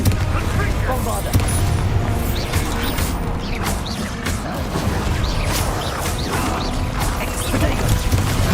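Bombarda spell explosions in the Hogwarts Legacy video game, dense booming blasts and crashing impacts throughout amid combat noise, loud and continuous.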